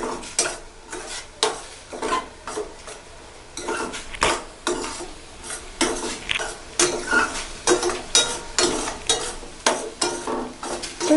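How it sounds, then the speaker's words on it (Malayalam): Vegetable noodles being stirred in a pan: repeated scraping and clinking strokes of a spatula against the metal arrive in an uneven rhythm over a soft sizzle, close up and without speech. "ശേഷം നന്നായി ഒന്ന് ഇളക്കി കൊടുക്കുക"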